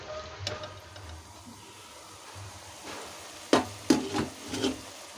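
Mutton being bhuna-fried in a pot with bitter gourd gives a low, faint sizzle, with a few louder clanks and scrapes of stirring toward the end.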